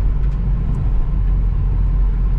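Steady low engine rumble from a vehicle in the Charente countryside, close and loud, with a continuous droning hum and no talk.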